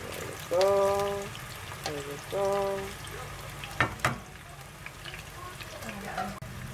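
Tofu sizzles and crackles in hot oil in a pan, a steady low frying hiss with a few clinks of stirring, while a voice talks over the cooking.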